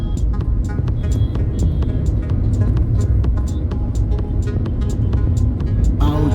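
Heavy city traffic surrounds a car, a constant loud rumble of engines with pulsing tonal whines and faint horn-like tones cutting through, ending with a brief sharper burst.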